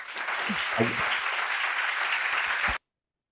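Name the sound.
audience applause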